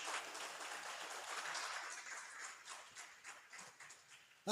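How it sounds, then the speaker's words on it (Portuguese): A church congregation claps for the Lord during a worship service: a dense, steady patter of many hands at moderate distance, easing slightly toward the end before a sharp sound cuts in. "As palmas lá ao Senhor."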